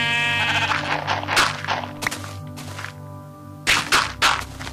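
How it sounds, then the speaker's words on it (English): Sheep bleating in Minecraft, several loud close bleats in irregular bursts with pauses between them over a faint background hum. "What are you doing here, sheep?"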